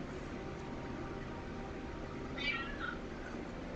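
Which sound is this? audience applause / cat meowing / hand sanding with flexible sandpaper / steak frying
cat meowing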